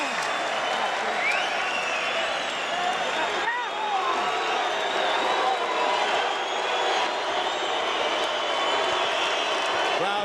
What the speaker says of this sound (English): Crowd boos Byrd